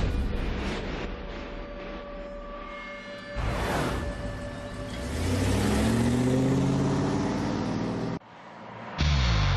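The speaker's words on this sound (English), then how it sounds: "The F-150 reaches speeds approaching 100 miles an hour, revving up to the red line hours on end" A Ford F-150 pickup tows about 11,300 pounds at full throttle, its engine revving hard toward the red line. Rising engine tones surge and sweep past, broken by abrupt cuts.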